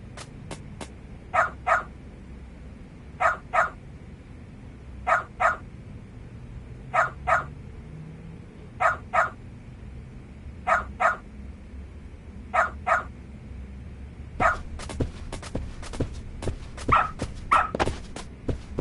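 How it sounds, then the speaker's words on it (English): A dog barks in the video game Lost Judgment, a steady series of sharp double barks at regular intervals, turning into quicker, busier barking near the end. "Good dog. Very good dog."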